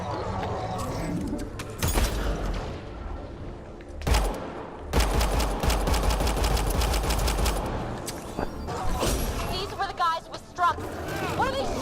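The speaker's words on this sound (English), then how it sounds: "What are they shooting at us for?" Enemies fire on the player in the sci-fi shooter Mass Effect: Andromeda, with dense bursts of rapid gunfire and impacts filling the middle stretch while voices talk over the combat.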